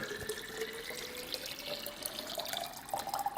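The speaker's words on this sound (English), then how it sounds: "I can easily grab the filtered cold water and fill up very quickly" Filtered cold water streams steadily from the dispenser of a Samsung Bespoke refrigerator into a Nalgene bottle, a close, continuous rushing flow with no talking.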